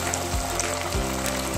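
Fish pieces fry in hot ghee over low heat, giving a loud, steady, close crackling sizzle with a faint low hum beneath.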